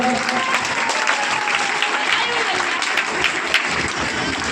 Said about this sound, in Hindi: एक बार जोरदार तालियां बजाकर